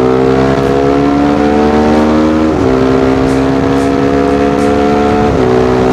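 A Suzuki Hayabusa Gen 2 motorcycle with a full-system exhaust holds a loud, steady high rev, its engine note climbing in two stepped rises with no talk over it.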